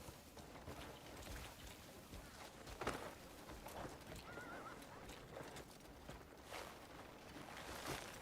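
Horse hooves clop steadily during a ride in the Crimson Desert video game, a continuous rhythmic patter over game ambience with a brief whinny-like sound partway through and no talk.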